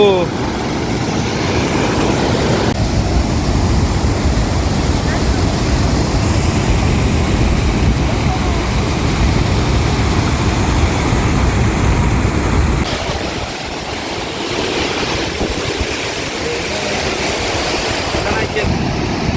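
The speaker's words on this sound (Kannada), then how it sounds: "ಏನು ವಾಟರ್ ಸೌಂಡು." Rushing water at the start of a canal below the Krishna Raja Sagara reservoir dam in Mandya, Karnataka, a loud, steady broadband roar filling the whole clip, dipping slightly near the end.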